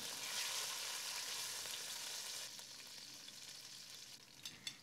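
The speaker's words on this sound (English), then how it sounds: "Add the anchovies along with its oil in the pot and saute for 1/2 minute." Anchovies sauté in olive oil in a pot as a quiet, even crackle, fading slightly partway through, with a couple of small knocks near the end and no talking.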